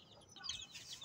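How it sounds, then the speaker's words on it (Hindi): A hen clucks faintly in a few quick, soft chattering notes against low background noise. "यार, मैंने मुर्गी को खोला है दोस्तों"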